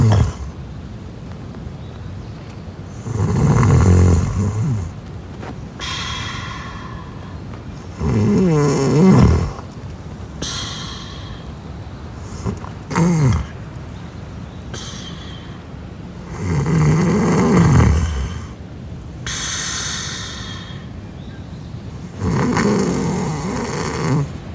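Recorded human snoring played back on a camping podcast: loud rasping snores come in slow, regular bursts about every five seconds, with quieter breathing pauses between them.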